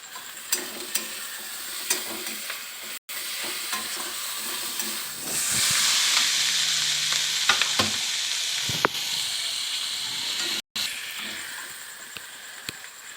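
Chopped tomatoes go into a pan of fried onions, and a steady loud sizzle fills the pan as a spoon scrapes and stirs through it. The sizzle surges as the tomatoes land, then settles to a constant hiss with no voices.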